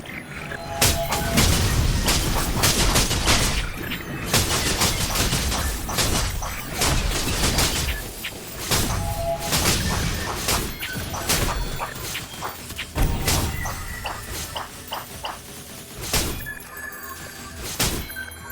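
A melee fencer character attacks in a MOBA video game with a dense, loud stream of slashing hits, crashes and booming impacts, layered with battle effects and no pauses.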